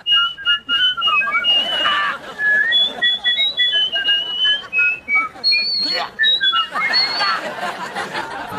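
Several people whistling a wavering tune together, with rising and falling pitched lines that weave over one another, accompanied by chuckles and chatter in a comedy sketch setting.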